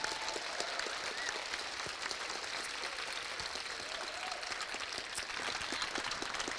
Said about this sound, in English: let's give a huge round of applause for all of the volunteers